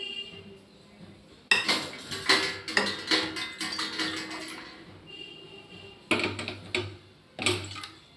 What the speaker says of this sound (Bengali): এখানে চায়ের জলটাও বসিয়ে দিই।